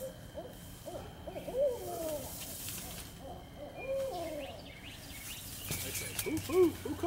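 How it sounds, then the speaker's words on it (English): A barred owl gives repeated rhythmic hoots outdoors, clear and moderately near, with a second bird adding calls and faint chirps and insects in the background; people speak softly at times. "And this is a barred owl, right?"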